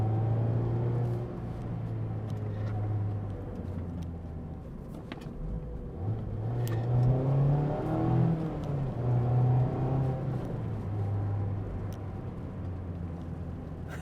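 A 2024 Mazda MX-5 Miata accelerates along back roads, its engine droning steadily from inside the cabin, the pitch rising and swelling midway as it revs harder, then settling back under a constant road rumble.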